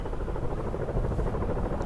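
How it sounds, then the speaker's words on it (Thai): Helicopter taking off in Battlefield: Bad Company 2, a dense low rotor thump and engine drone that holds steady and loud throughout, with no talking. "เฮลิคอปเตอร์ขึ้นแล้วนะครับ"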